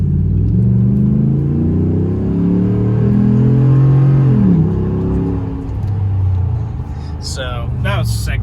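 Ram 1500 pickup engine with a K&N Blackhawk intake revving hard in second gear, a loud throaty rumble rising steadily in pitch over several seconds, then easing off as a voice begins speaking near the end.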